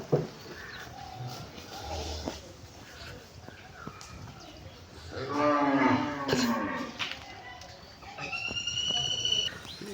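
Cattle let loose to graze freely in the open, with several deep moos rising and falling nearby, birds chirping and faint outdoor voices in the background.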